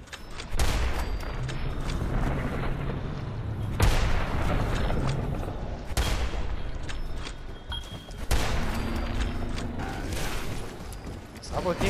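Repeated bursts of gunfire and booming blasts in Fallout 4 Far Harbor come in clusters, loud and close, with someone talking excitedly in German over them.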